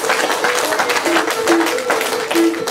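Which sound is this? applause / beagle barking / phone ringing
applause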